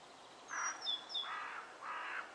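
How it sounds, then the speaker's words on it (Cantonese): Birds in a walking simulator video game, set in a country park, give a few faint, thin chirps and short calls over a quiet background. "我聽到啲雀仔聲啊"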